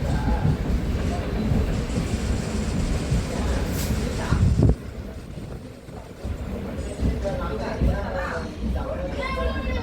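A Chennai local commuter train runs toward Chennai Beach, its steady low rumble and rattle filling the carriage, with a brief louder clatter midway and people talking over the noise throughout.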